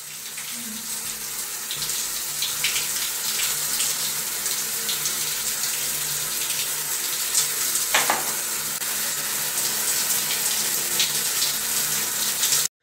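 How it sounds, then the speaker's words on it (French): Home shower running, a continuous close hiss and patter of spraying water that holds steady throughout, with faint splashes and clatter now and then and no speech. "je vais en profiter pour faire ma douche"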